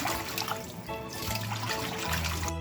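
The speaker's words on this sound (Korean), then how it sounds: "나물을 다 삶은 다음에도 이렇게 찬물에 계속 흔들어 헹구어 주어야 남아있던 흙이 다 빠져요" Water sloshes and trickles close by as blanched wild greens (pporibaengi) are swished and rinsed in cold water, a continuous splashing with a low running-tap tone underneath.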